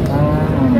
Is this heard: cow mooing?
yes